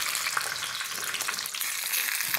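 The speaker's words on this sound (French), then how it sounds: "Dès que c'est chaud, je rajoute les cuisses." Chicken legs fry in hot clarified butter, giving a dense, steady sizzle with crackling spits throughout, close and continuous.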